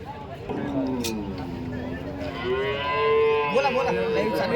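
Cattle lowing at a busy cow market in Chalisgaon, with long, loud moos rising over the din of a crowd and traders' voices.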